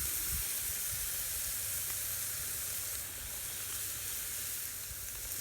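Pork chops sizzle steadily over a charcoal grill, a continuous close, even hiss of frying fat with faint crackles and no voices.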